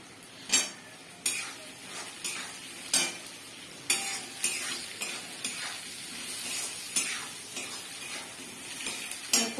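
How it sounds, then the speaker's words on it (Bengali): Potatoes and taro are tipped into a frying pan of sizzling onions and stirred for a silver carp fish curry, with sharp spoon-on-pan scrapes and clatters recurring over a steady close-up sizzle. "এবার আমি কচু আর আলুটা ছেড়ে দেবো।"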